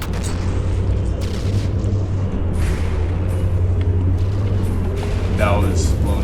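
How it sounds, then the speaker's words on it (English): Warship cannons fire in a naval combat video game as the advanced guns of the Bulwark pepper the BB15, heavy booming rumble sustained throughout over a dense low drone, with repeated muffled blasts and no speech. "Bulwark's advanced cannons opening up, peppering the BB15"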